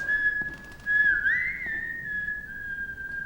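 A boy whistles a slow, eerie tune in a haunted manor, a single clear sustained whistle that bends and wavers in pitch, heard alone against a quiet background.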